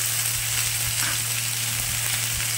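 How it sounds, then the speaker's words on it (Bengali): Mango chutney with dates and cashews stirred in a hot pan, giving a loud, steady sizzle and bubbling with faint scraping of the spoon, no voices. "খেজুরগুলো দিয়ে দিলাম, কাজুটা দিয়ে দিলাম, দিয়ে একটু ভালো করে নেড়ে নিচ্ছি"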